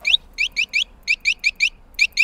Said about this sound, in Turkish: Çok iyi değil mi şu kornum?